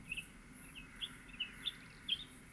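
A small bird chirps in Layers of Fear, giving about seven short, thin, high tweets at irregular intervals, faint and alone over a quiet, hushed ambient background.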